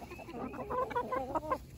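Chickens clucking excitedly over treats in a backyard flock with ducks, a close run of quick, rising clucks and murmurs with no talk.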